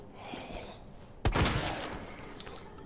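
A single sharp gunshot in Resident Evil 2 cracks out midway through a quiet, hissy backdrop, followed by a short decaying tail and a faint later click.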